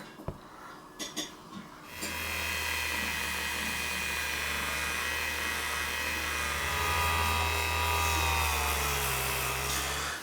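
A power polisher running at low speed works rubbing compound over a scratched plastic shifter indicator lens, starting after a few faint clicks and holding a steady, close, continuous whine to the end.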